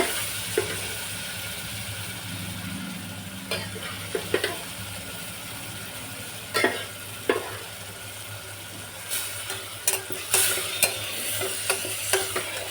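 Usal, a sprouted bean curry, stirred in sizzling hot oil in a pan, with a soft continuous fry hiss and intermittent scraping clinks of a spoon against the pan, fairly quiet and close.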